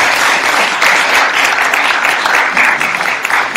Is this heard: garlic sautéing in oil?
no